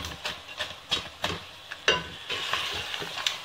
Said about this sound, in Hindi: हमने ये फ्राई किए, हम इसे डालकर भून लेंगे